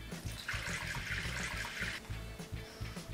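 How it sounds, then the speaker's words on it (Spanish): Water is poured into a basin as the first step of making basil and aloe vera soap from used oil, a close, steady splashing stream with a low gurgling underneath. "Para empezar tenemos que meter 2 litros de agua en el barreño."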